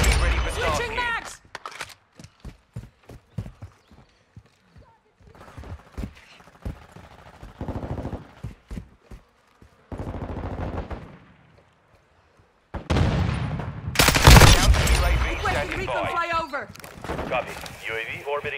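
A Lachmann assault rifle fires in Modern Warfare, loud close bursts and single shots in rapid rhythm broken by short pauses, with game callouts spoken between them.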